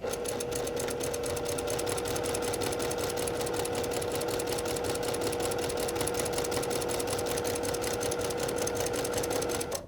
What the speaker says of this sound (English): I have my Baby Lock Jane machine today.